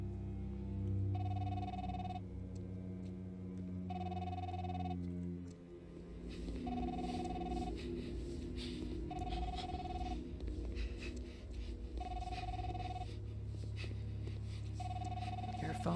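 A telephone rings repeatedly in the game Fidelio Incident, steady evenly spaced electronic rings over a low ambient drone and murmuring background sound.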